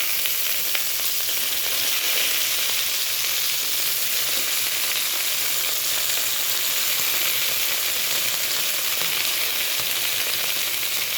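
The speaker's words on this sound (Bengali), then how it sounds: "এবার আমি এর মধ্যে কেটে রাখা কুচানো পেঁয়াজ দিয়ে দেব" Chopped onion hitting a hot pan of oil, a loud, dense, continuous sizzle and crackle that stays steady throughout, close up with no voices.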